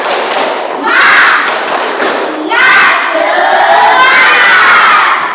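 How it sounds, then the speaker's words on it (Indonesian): A classroom of Indonesian schoolchildren performs a rhythmic clap-and-shout morale chant, loud thumping claps mixed with rising group yells in bursts, close and filling the room. "kita tepuk semangat dulu"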